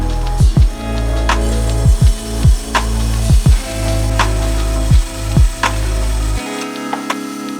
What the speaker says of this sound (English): we make sure the height of our bandsaw blade is appropriate